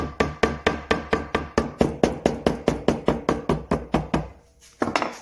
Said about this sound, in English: where I was hammering the tenons